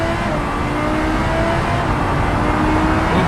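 A fast car in a car-crash video game drives onto a bridge, its engine roaring loud and steady with a constant whirring drone throughout and no letup.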